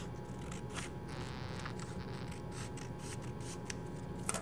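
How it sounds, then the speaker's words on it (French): Scissors snip roughly through a paper template for a rack-and-pinion pattern, a run of soft, crisp cuts at an uneven pace, close and fairly quiet over a low background hum. "On va découper grossièrement nos formes dans le modèle."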